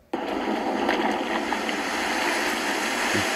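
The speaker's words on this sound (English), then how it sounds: "that's the sound of the water gushing in" Water gushing in, built as a sound effect from layered, bass-heavy dramatised waves: a steady, dense roaring wash that starts abruptly and holds at full strength, with splashy surges and low rumbles under it.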